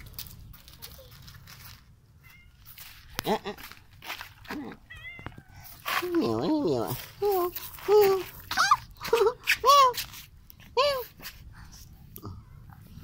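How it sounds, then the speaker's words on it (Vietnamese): A cat meows several times in short rising and falling calls, close and fairly loud, among soft rustling, with a person's voice nearby. "nó mèo nó mèo"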